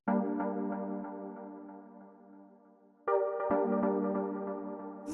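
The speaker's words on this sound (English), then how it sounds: "Next sound we have here is this little Dubby chord stab thing" Sustained dub techno synth chords ring out, then a second chord stab cuts in sharply, warm and slightly filtered, played alone at moderate volume.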